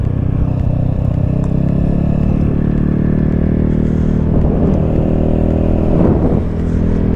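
Scooter fitted with a Polini Maxi Speed clutch, S.I.P drive pulley and speed bell, its engine droning steadily and loudly throughout with rising rev surges near the end.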